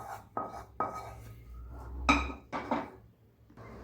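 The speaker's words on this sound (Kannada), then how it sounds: "ಈ ತುಪ್ಪ ಹಾಕಿದ ಪ್ಲೇಟಿಗೆ ಇದನ್ನು ಶಿಫ್ಟ್ ಮಾಡ್ಕೊಂಬಿಡೋಣ" Halwa being moved onto a ghee-greased plate, heard as a run of close metallic clinks and scrapes of a utensil against a steel plate and pan, several distinct knocks spaced over a few seconds, with no voices.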